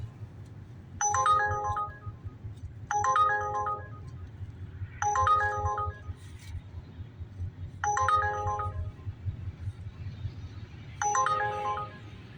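A phone ringtone sounds five times in a steady repeating pattern, close by, over a low rumbling background.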